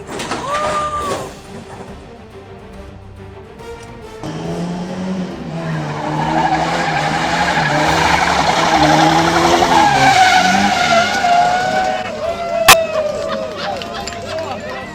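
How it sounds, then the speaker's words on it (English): A car drifts with tires skidding and squealing, a long rising screech building over several seconds with engine noise beneath, after people talk excitedly nearby. "Drifting smoothly, but the tire just decided to take its own path"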